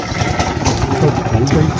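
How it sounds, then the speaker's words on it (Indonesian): A diesel engine drives a motorboat on Lake Rapening in Indonesia, giving a steady, close, throbbing low rumble throughout with murmured voice-like sounds mixed into the noise. "Untuk perahu di sini menggunakan teknologi modern karena sudah menggunakan mesin diesel ya."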